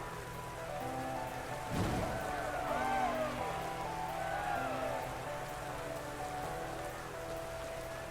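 Steady rain from the Rain Dance move in a Pokémon battle game, a continuous even wash of patter with a faint thunder-like swell early on, mixed with game music.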